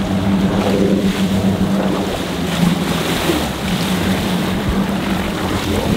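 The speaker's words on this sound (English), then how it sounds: "I'm going actually into the wake in reverse pretty hard" An Axopar 37 boat reverses hard into wake waves, giving a loud continuous rumble of engine and churning water mixed with wind buffeting the microphone, and no voices.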